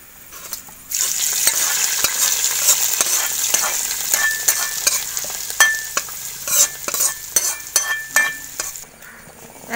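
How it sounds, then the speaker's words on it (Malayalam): Fried shallot mixture is poured into mutton curry and stirred, giving a steady loud sizzle with repeated scraping strokes of a spoon against the pot and occasional metallic clinks. "ഇനി നമുക്ക് മട്ടനിലേക്ക് ഇത് ഒഴിച്ചു കൊടുക്കാം."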